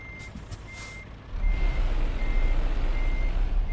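A truck reverses a trailer in Euro Truck Simulator 2 while a reversing alarm sounds steady, evenly spaced beeps. Partway through, a low diesel engine rumble swells up and continues under the beeping.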